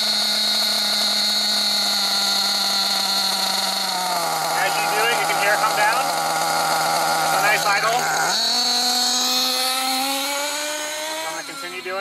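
An Alpha model engine runs at high revs during a heat-cycle break-in, giving a steady, loud, buzzing whine whose pitch dips briefly partway through and then climbs higher near the end.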